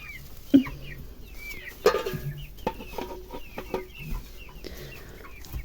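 Chickens cluck and squawk in scattered bursts close by, with a few louder calls standing out over quieter background clucking.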